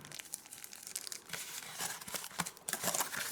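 Plastic bag crinkling while a Zoom H2n recorder is unboxed, a close, quiet run of continuous crackling and rustling with sharper crunches throughout.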